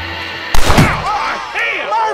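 A loud gunshot cracks in the Red Dead Redemption video game, one sharp close blast followed by a fading echo, with voices talking afterward.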